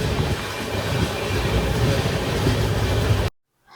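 An express train on the Visakhapatnam to Varanasi route runs along the rails with a loud, steady rumble and faint clatter heard from inside, cutting off abruptly into near silence at the end.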